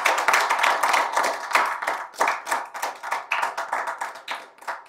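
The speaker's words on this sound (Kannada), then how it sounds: "ನಿಮ್ಮೆಲ್ಲರೂ ಒಂದು ದೊಡ್ಡದಾದ ಒಂದು ಚಪ್ಪಾಳೆ ಬೇಕು" A live audience at an evening comedy show claps in steady, dense applause that stays fairly loud throughout, then gradually thins toward the end.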